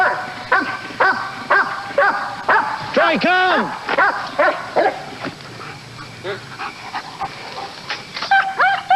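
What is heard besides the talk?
police dog barking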